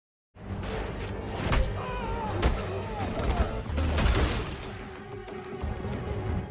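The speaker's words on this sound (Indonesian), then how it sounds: "Dengan peluru yang terus menghujani tubuhnya, Joe sama sekali tidak bergeming" Gunfire during a fight scene in the superhero film Samaritan: bursts of shots and impacts over a dense action soundtrack, with a voice speaking over parts of it.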